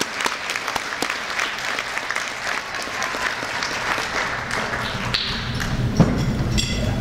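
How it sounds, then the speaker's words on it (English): Audience applause at a Somali community graduation and scholarship ceremony in Ohio, a sustained roomful of clapping with scattered louder claps and a few thumps, no speech over it. "Give him a round of applause."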